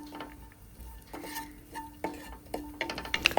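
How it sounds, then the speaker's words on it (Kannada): Finely chopped ginger and garlic frying in a spoonful of oil in a pan, a quiet sizzle under a faint steady hum, with a few spoon scrapes and clinks against the pan growing busier toward the end. "ಇದಕ್ಕೆ ಚಿಕ್ಕದಾಗಿ ಹಚ್ಚಿಕೊಂಡ ಶುಂಠಿ ಮತ್ತು ಬೆಳ್ಳುಳ್ಳಿನ ಹಾಕಿ ಸ್ವಲ್ಪ ಫ್ರೈ ಮಾಡಿಕೊಳ್ಳಿ"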